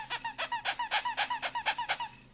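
A punctured Kyjen Invincibles gecko dog toy squeaks about a dozen times in a quick, steady rhythm, each squeeze giving a bright, close, fairly loud squeal with no talking.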